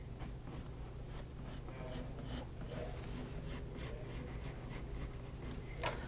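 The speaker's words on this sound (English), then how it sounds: "So I'm just going to draw another heart inside" Pen or marker scratching across paper while drawing a heart shape, a steady close rasp of strokes with short pauses over a low background hum.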